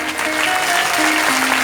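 Audience clapping for devotees at a Krishna katha gathering in Chhatarpur, Madhya Pradesh, a steady dense patter of hands over faint held musical tones, loud and continuous.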